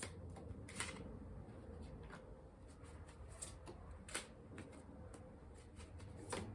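Tarot cards being shuffled by hand, a steady soft riffling rustle with occasional sharper slaps and taps, close and fairly quiet, with no talking.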